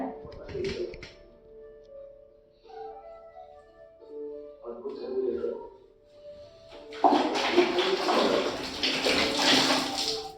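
A household tap runs water over a cloth being wetted. Quieter clattering comes first, then a loud, steady rushing stream fills the final few seconds.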